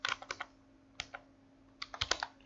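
Keys clatter on a computer keyboard in short bursts of a few quick strokes separated by pauses, close and fairly quiet against a faint steady hum.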